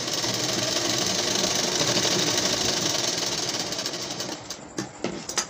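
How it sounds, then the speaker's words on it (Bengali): A sewing machine stitches a fall border onto a saree, giving a continuous, loud mechanical whir for several seconds that thins out and stops with a few light clicks at the end. "সেলাই করে দেব।"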